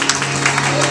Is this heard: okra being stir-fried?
no